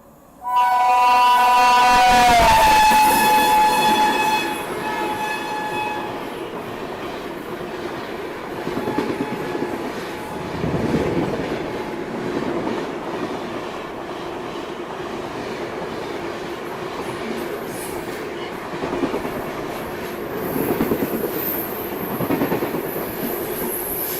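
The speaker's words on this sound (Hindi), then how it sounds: "तो ये आ रही है ताप्ती गंगा सुपरफास्ट एक्सप्रेस।" A loud train horn blares at the start, then the Tapti Ganga Superfast Express in India rushes past nearby with a steady roar and rhythmic clattering of wheels on rails.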